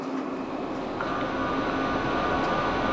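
Steady interior rumble of a South Western Railway Class 458 electric train running on approach to London Waterloo, a continuous rolling drone with faint wheel clicks and a thin motor whine.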